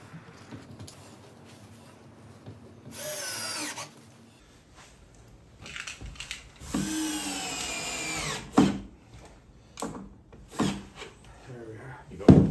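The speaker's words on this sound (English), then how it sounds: "I pre-drill all the holes with a self-centering drill bit before I put the screws in." A power drill with a self-centering bit whirs in short bursts, pre-drilling screw holes in a door, with pauses and clattering handling noises between runs, fairly close by.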